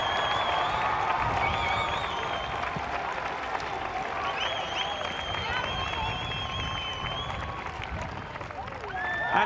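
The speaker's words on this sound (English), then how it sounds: "Please give them a roll round of applause." Crowd applause for the Netherlands women's hockey silver medalists at a tournament ceremony, a dense steady ovation lasting throughout with cheering mixed in and a voice faintly audible beneath.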